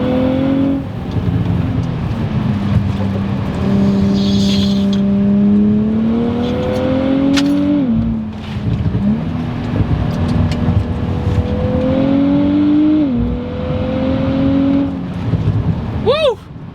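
A Nissan Z Nismo accelerates hard, its engine note rising through gears with brief shift dips and a whooshing intake sound, loud and close throughout.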